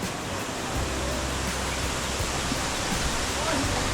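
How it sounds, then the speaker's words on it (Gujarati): Kosmal waterfall in the Dang hills of Gujarat runs with little water after several dry days, making a steady, even broadband rush that fills the clip without a break. "आपके सामने पेश है कोसमाल वॉटरफॉल"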